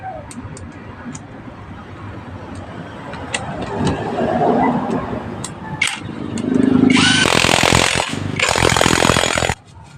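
Power tool fastening new allen bolts on a Yamaha SZ motorcycle engine, heard as loud whirring bursts after a stretch of rattling workshop noise, then stopping abruptly.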